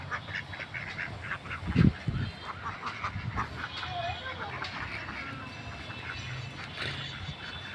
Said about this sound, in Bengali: আমার সামনে দেখতেছেন হাঁস কতগুলো, এই যে হাঁসগুলা।